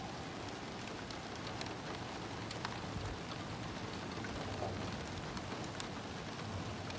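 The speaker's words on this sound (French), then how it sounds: "je vous laisse encore profiter de cette pluie qui devient modérée" Moderate rain falling steadily at around 4-5 mm per hour in Téteghem, France, a soft even patter of drops with occasional sharper taps, faint and unbroken throughout.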